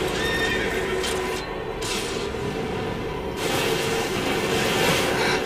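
Horses neigh and whinny in Final Fantasy XIII-2 with hooves clip-clopping, loud and close, in two long whinnies split by a brief lull, with no talk.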